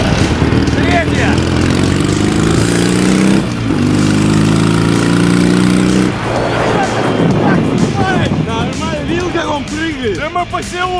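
A Ural motorcycle rides through a village with its engine droning loud and close, the pitch stepping up through a gear change, while people talk over it throughout.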